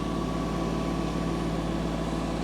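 Compact tractor engine running steadily at raised revs while an Orsi hedge cutter head spins, a constant droning hum with a low throb, loud and unbroken throughout.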